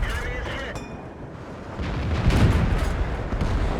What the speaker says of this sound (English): You're being shot from the right.